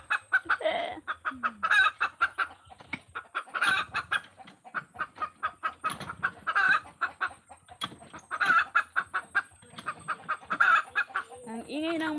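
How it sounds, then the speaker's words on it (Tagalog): A hen looking for a place to lay eggs clucks repeatedly in rapid, rhythmic bursts close by, her agitated calls rising and falling with brief pauses between runs. "umiingay na naman yung manok"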